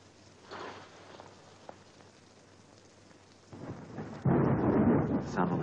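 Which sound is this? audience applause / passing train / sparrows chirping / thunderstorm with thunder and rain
thunderstorm with thunder and rain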